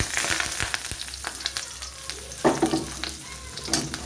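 Grated raw mango hits hot oil with tempering spices, crackling and sizzling up close as it is stirred, with bursts of louder spattering among the steady frying hiss.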